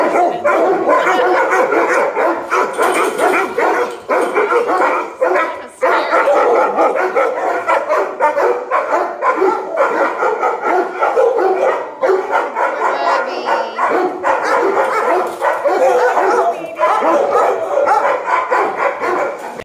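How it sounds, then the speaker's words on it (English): Many dogs barking together inside an enclosed animal shelter kennel, a loud, continuous, overlapping chorus of barks and yips echoing off hard walls without letup. "all that barking you heard outside is bouncing off walls inside"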